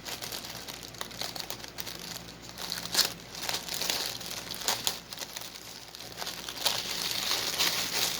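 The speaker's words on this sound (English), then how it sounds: "today we have another unbagging" A plastic mail package crinkles and crackles up close as it is opened with small scissors, with irregular rustling bursts and a few sharper tearing sounds, no talking.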